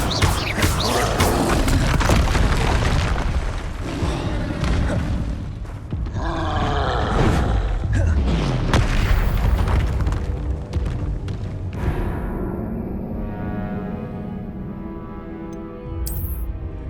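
Fire and blasting spell effects in the video game Hogwarts Legacy make loud, dense rumbling booms and crackling bursts over a continuous roar, then fade into a hollow, ringing ambience toward the end.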